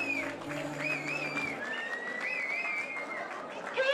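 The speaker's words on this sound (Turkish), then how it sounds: "Alkışlar çiftimize gelsin" Guests applaud a couple's entrance at a wedding, a steady wash of clapping and crowd noise under music and a voice on a microphone.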